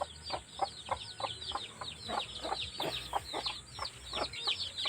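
Several chickens cluck in short repeated bursts, fairly close, with a hen nesting nearby, overlapping calls forming a busy, uneven rhythm and no talking.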